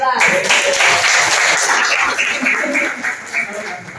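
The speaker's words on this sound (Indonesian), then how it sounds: "tepuk tangan buat kelas 12" Applause for class 12 at a school presentation, a bright, busy clatter of clapping that fades slightly toward the end, with voices and some laughter mixed underneath.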